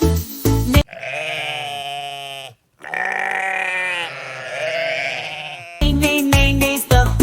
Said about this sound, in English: Puff puff puff puff sings the sheep